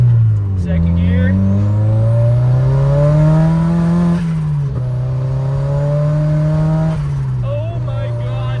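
Budget turbocharged Mazda Miata running lean, pulling hard in second gear on a test drive, heard from inside the cabin: a loud, close engine drone climbing steadily in pitch, with brief dips between pulls.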